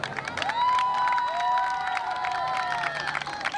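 Crowd cheering and applauding at the Miss Tehuitzingo 1998 beauty pageant, a loud continuous roar of clapping with high shouts and whistles rising over it throughout.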